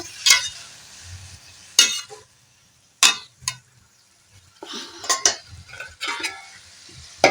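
Papaya chutney, just salted, is stirred in a pan with sharp metallic spoon scrapes in irregular bursts, separated by quiet gaps filled with a faint low sizzle. Each stroke is close and clear, and there is no talking.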